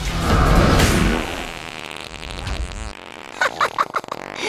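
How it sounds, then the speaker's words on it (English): A cartoon fart sound effect from the Teen Titans Go! movie: a low, rumbling blurt that swells for about a second and then trails off, followed by a few small, quiet pops. "He farted."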